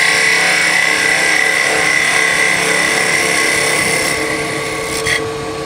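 A woodturning lathe runs loud and close with a skew chisel cutting the spinning wood, giving a sustained high whine over a rough scraping drone that eases slightly near the end.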